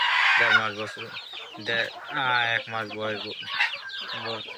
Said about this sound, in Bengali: আমার দেশি মুরগি খামারে অল্প কিছু মুরগি বাচ্চা ইনকিউবেটরের মাধ্যমে তুলে এসেছি